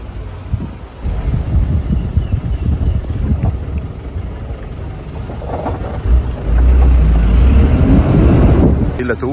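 Busy harbor on Ko Phi Phi with many boats: a deep, constant rumble of boat engines and water traffic under heavy wind buffeting the microphone, growing louder and closer toward the end.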